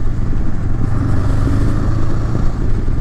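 Honda Rebel 500 motorcycle cruising down the road, a steady low engine rumble blended with wind roar, loud and close throughout with no voices.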